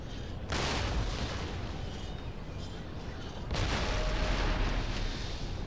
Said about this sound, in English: they're shooting at our approaching forces here